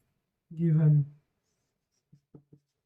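Chalk or marker writing a solution on a classroom board, a few short taps and strokes close by, coming after a man's speech.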